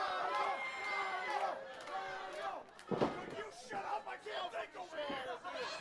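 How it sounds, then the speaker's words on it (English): A lucha wrestling crowd reacts negatively to a wrestler, a loud, sustained wash of booing and jeering with voices standing out over it. "a negative reaction for who he claims is the big dog himself, Eddie Vice"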